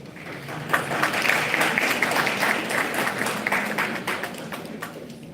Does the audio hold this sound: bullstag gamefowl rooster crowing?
no